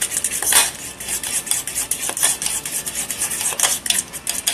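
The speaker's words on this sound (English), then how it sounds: "So we're going to just mix this up really good" A utensil stirs a runny lime dressing in a bowl, producing quick repeated scraping and clinking strokes, close and fairly loud, with no voices.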